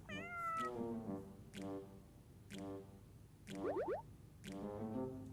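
Cat meowing several times in a row, a series of clear, fairly close meows with short pauses between them, heard alone without any talking.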